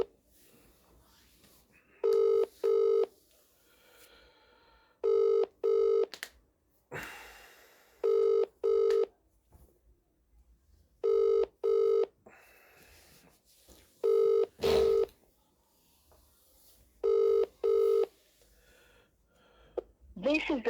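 A telephone call rings out through the handset, a repeating double-pulse ring tone sounding six times at even intervals, with faint rustling between the rings.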